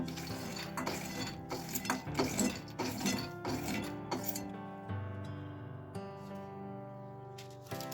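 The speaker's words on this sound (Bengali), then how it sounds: "এবার একটা বাটিতে আমি এখানে মাখানাগুলো তুলে নিচ্ছি।" Roasted makhana (fox nuts) rattle and clink as they are tipped into a bowl, a quiet run of light rustling and tapping against the dish that tails off into a soft ringing tone.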